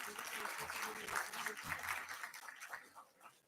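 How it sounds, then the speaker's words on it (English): An audience at a corporate event applauding a guest, with a steady wash of clapping from a crowd that fades toward the end, and a voice speaking over part of it. "Let's have a huge round of applause for sir."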